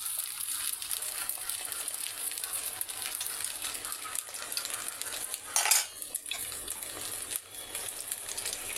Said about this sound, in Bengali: তো ডিমটা দিয়ে দিছি, এবার একটু সাট করে দেব।